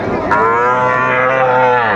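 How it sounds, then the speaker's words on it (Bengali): A young Sahiwal heifer calf moos loudly and close at a cattle market, one long sustained call filling the whole moment. "এই যে বকনা শাহিওয়ালার বেশ সুন্দর বাচ্চা"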